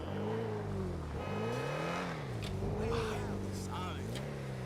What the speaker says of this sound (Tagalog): Nasakay na natin tong Lamborghini